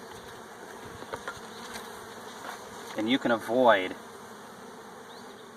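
Honey bees buzz around an open hive box stacked with deep boxes, their steady hum swelling as a few come near, while a person speaks briefly over them.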